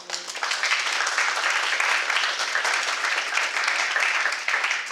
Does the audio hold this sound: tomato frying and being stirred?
no